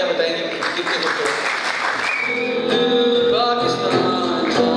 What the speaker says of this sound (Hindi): आपकी तालियां बताएंगे कितनी खूबसूरत